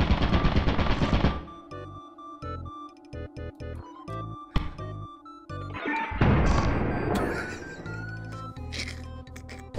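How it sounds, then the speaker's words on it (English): A turret in the video game Lethal Company fires bursts of rapid gunfire, clattering volleys that start and stop irregularly alongside other in-game clanks and crashes. "Watch out, there's a turret"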